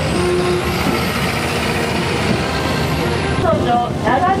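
Military reconnaissance vehicles rolling past at an inspection parade on a base, a loud, steady broadband vehicle roar filling the scene with a brief voice near the end.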